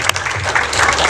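Brief, lively audience applause at a tribute interview event, a dense wash of clapping from a nearby crowd at a fairly loud level.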